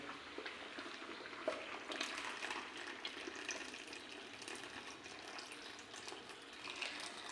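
Thick jaggery syrup pours steadily into a pot, a continuous splashing, gurgling stream heard up close without any talk.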